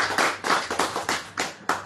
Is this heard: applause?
yes